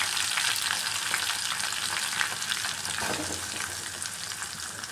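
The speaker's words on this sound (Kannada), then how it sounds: "ಕರಿಬೇವು ಸಾಸಿವೆ ಜೀರಿಗೆ ಹಾಕಿ ಒಗ್ಗರಣೆ ಕೊಟ್ಟು ಆಮೇಲೆ ಈರುಳ್ಳಿ ಹಾಕ್ಬೇಕು" Onion sizzles and crackles in hot oil over a tempering of curry leaves, mustard seeds and cumin, a close, steady frying hiss with light stirring and no talking.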